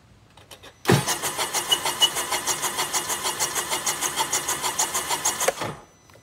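A three-cylinder Sea-Doo RXTX 300 jet ski engine is held at full throttle while being winterized, giving a steady, rapid, even pulsing churn at close range for about five seconds that starts and stops abruptly.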